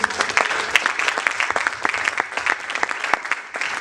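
A church congregation claps and cheers for Jesus at a Sunday service, giving dense, loud, sustained applause from many hands with no break.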